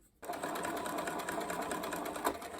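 A sewing machine stitches a Dolly school dress, starting abruptly and then humming steadily and close with its rapid needle rhythm.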